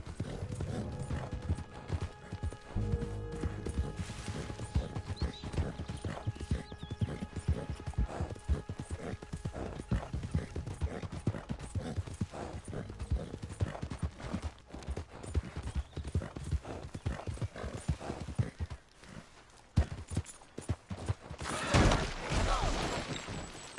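Horse hooves clip-clop in the Red Dead Redemption video game, a steady rhythmic gait running throughout, near and moderately loud, with a brief whinny and a louder crash near the end.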